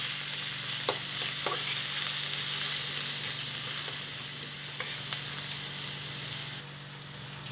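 Two small onions fry in oil toward light brown as they are stirred in a pan for aloo sabzi. The sizzle is steady and close, with occasional scraping clicks from the stir, and there is no talk.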